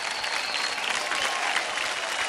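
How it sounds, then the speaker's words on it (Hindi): An audience applauds after a children's team dance performance on a televised dance show, a dense, steady wash of clapping from a large crowd, fairly distant and continuous. "जोरदार तालियां हो जाए स्वराली के स्पार्कलर्स के लिए"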